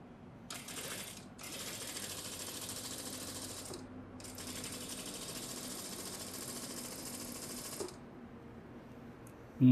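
An electric sewing machine runs stitches along a fabric edge in a tailoring class, whirring steadily in three sustained runs separated by short pauses, fairly close and alone without talk.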